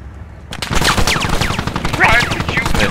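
Enemy gunfire in the video game Squad: rapid, loud bursts of shots crackle almost continuously for over two seconds, with excited voices talking over them.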